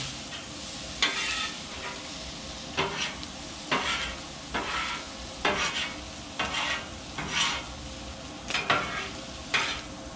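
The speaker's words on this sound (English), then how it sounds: "Bring it over into the garlic and mix and marry all those flavors together." Cilantro lime shrimp sizzle on a Blackstone griddle with garlic while a spatula scrapes and stirs in repeated strokes about once a second, close and clear over a constant frying hiss.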